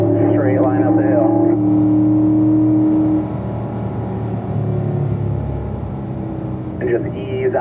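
A race car accelerates on the throttle up a hill with a steady low engine drone, while an instructor talks over it throughout.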